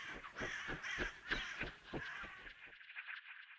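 Ravens cawing as a story sound effect: a flock of harsh, overlapping caws repeating rapidly for over two seconds, then fading into a thinner lingering call; fairly close and with no speech.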